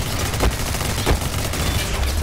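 Assault rifle gunfire in the multiplayer first-person shooter Ballistic Overkill: a steady stream of loud, close shots with two heavier bursts standing out, over continuous game noise.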